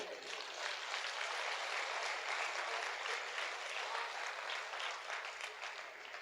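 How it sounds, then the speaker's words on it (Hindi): Steady, sustained applause from a theatre audience at a Hindi comic poetry recital, dense and even throughout without a break. "ईमानदारी से पीछे तक ताली बजा के मुझे बताना"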